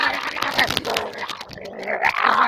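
A pit bull kept on a chain growls and whines in a low, continuous rumble, close and fairly loud, with brief yips rising above it.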